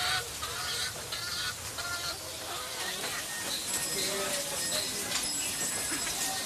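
Chickens and other fowl in a village in southern China, a busy cluster of clucks and honking calls repeating at moderate distance over a steady ambient bed, with voices mixed into the scene.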